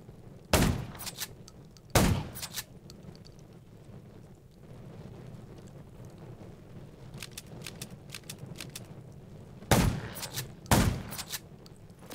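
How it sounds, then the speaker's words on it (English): Four sharp, loud gunshots in the video game Undawn ring out in two pairs, separated by a long stretch of low rumbling ambience. "Gunshots."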